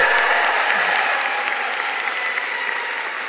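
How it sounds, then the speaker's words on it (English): A large crowd at a Columbia Nursing graduation ceremony claps loudly and steadily for graduates and their families. The applause is sustained and dense throughout, with no talking over it. "Can we give another round of applause to our phenomenal graduates and their families?"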